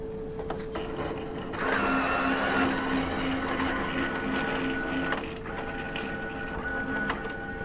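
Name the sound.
Entrust Datacard card printer running a cleaning card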